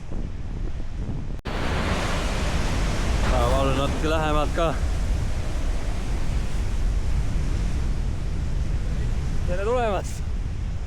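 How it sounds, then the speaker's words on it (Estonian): Strong wind with gusts up to 100 km/h and ocean surf on an Australian coast, roaring continuously and loudly across the whole stretch, with people speaking briefly over the wind noise. "Tuul puhub niimoodi, et silmad on märjad."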